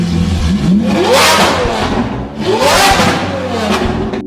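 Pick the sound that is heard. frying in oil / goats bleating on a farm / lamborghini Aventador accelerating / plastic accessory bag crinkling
lamborghini Aventador accelerating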